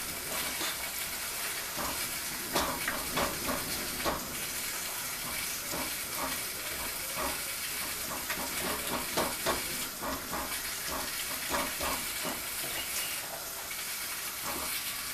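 Meat browning in a hot pan in a busy home kitchen, a steady close sizzle and hiss with scattered crackles and scraping stirs running throughout, no voices.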